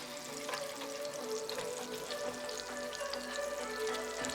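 Garlic frying in a pan for a boneless chicken thigh cacciatore, a faint steady sizzle with light crackles.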